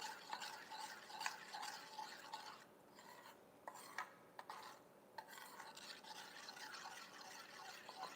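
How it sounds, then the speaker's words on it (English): Chocolate cake mixture stirred in a pot on the stovetop, thin in consistency: a soft, continuous scraping and swishing with occasional light taps, quiet and close. "maybe I just need to keep stirring"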